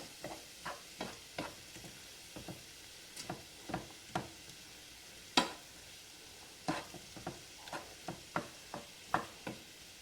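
Shrimp sizzle in a pan with a quiet, constant fizz. Frequent sharp taps and clicks from stirring and tossing recur through it at an uneven rhythm.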